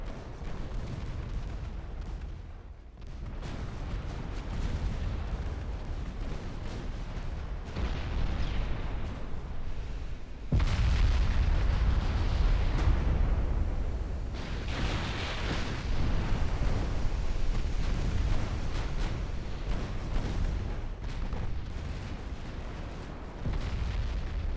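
Warship secondary battery guns firing in a naval combat video game: a dense, continuous rumble of booming shots and explosions rolls on steadily for the whole stretch, with stronger blasts surging at intervals.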